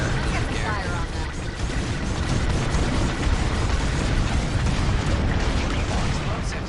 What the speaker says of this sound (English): More explosives, dropping some.